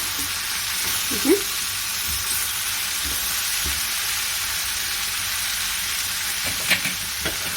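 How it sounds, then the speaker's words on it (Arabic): Chicken sautéing with spices in a pan, a steady close sizzle of frying with a few soft stirring scrapes and clinks throughout. "بصوا كده بقى هياخدوا تشويحه مع بعض وهياخدوا طعم بعض عشان الفراخ اللي معانا تتحمر بالتوابل اللي احنا حطيناها"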